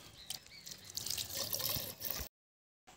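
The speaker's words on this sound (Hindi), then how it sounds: "सो दोस्तों अब हम पंप में पानी भर रहे हैं, देखिए कुछ इस तरह से भरा जाता है।" Water pouring and dripping into a farm pump before planting mint, a close trickle with splashes for about two seconds, then a short silence.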